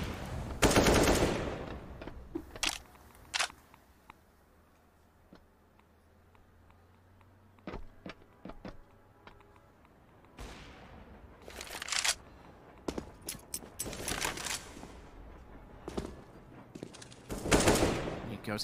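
AK rifle gunfire in Counter-Strike on the Train map, scattered sharp shots and short sprayed bursts with quieter stretches between them, over faint game ambience.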